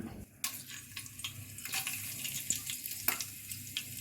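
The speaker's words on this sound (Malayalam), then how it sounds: "കുക്കറിലേക്ക് ഞാനൊരു നാല് സ്പൂൺ ഓയിൽ ഒഴിച്ചു കൊടുത്തു അതിനകത്തേക്ക് ഗ്രാമ്പു പട്ട ഏലയ്ക്ക ലീഫ് എന്നിവ ഇട്ട് കൊടുക്കുകയാണ്" Cloves, cinnamon, cardamom and bay leaf sizzle in hot oil inside a pressure cooker for paneer biryani, a steady close crackle with brief sharper pops and a light clink of a utensil, no talking.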